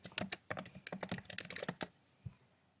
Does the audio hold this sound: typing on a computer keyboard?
yes